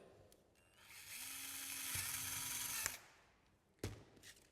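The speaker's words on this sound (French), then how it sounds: "Avec une bonne perceuse et une mèche de 10 mm, ça n'est pas bien compliqué." A power drill with a 10 mm bit bores into a PVC tube, whining steadily for about two seconds with a rising motor tone, then stopping with a sharp click and a later thump, all close and fairly quiet.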